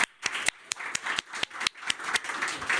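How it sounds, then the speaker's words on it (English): Audience applause for a keynote speaker at a conference on decarbonizing the built environment: scattered, sharp hand claps from a small crowd, irregular and fairly close, with no voices. "may I ask a big applause for George."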